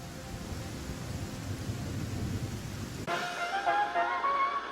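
Rain falling in the video game Afterparty, a steady broadband wash of rainfall that carries on, then shifts at about three seconds as brighter tonal game sounds join it.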